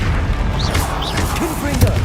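Spell blasts from a Harry Potter video game, Confringo and Bombarda, thud and boom in quick succession under a dense, busy game soundscape with music-like tones, the hits blending into a continuous rumble.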